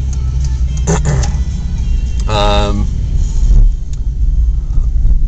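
A car on its morning commute along a road in Japan, driving on the left, with a continuous low engine and road rumble from inside the cabin, a brief tonal whine midway, and a voice talking over it.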